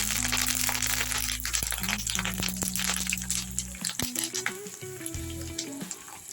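Curry leaves crackle and sizzle in hot oil for chintachiguru pappu, a loud, close, continuous frying hiss with sharp pops and a low steady hum beneath.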